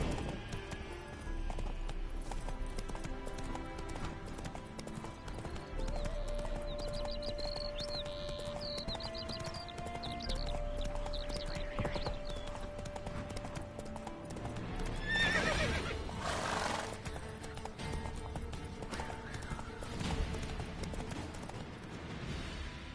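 A horse gallops with steady clip-clop hoofbeats and lets out a neigh in The Witcher 3 video game, the hooves close and continuous beneath game music.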